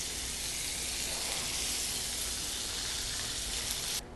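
Asparagus and garlic sizzle steadily in oil seasoned by seared meat, a dense, constant frying hiss close by that cuts off sharply near the end, with no talking.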